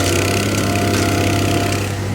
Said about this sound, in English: Do all the edges with the vibratory tamper